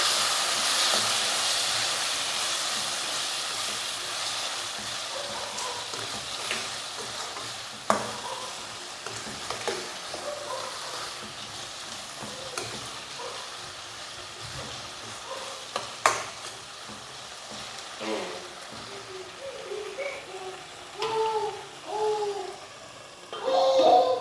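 Chilli powder stirred into a sizzling tomato mixture in a pan for tomato rice, a soft continuous frying hiss broken by repeated spoon scrapes and clinks against the pan, a few sharper knocks standing out.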